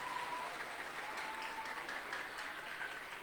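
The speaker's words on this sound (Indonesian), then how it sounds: "Tepuk tangan untuk semuanya." Steady audience applause at an Islamic New Year 1444 H gathering with orphan charity at an Islamic boarding school, a dense even wash of many hands clapping throughout, moderately distant and without talk.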